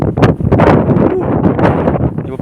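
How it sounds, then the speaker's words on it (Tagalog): Strong wind buffets the microphone in a loud, continuous roar with rough gusty bursts, no other sounds standing out. "Lakas ang hangin guys."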